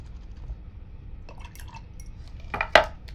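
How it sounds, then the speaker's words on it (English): A paintbrush is rinsed in a water cup during an acrylic painting session, quiet at first, then a few light clinks and a short burst of sloshing and dripping near the end. "I'm going to rinse my brush."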